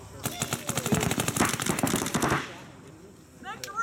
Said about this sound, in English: Lou, why are you shooting Bob?